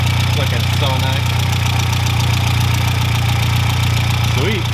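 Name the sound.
big turbo Audi A4 engine running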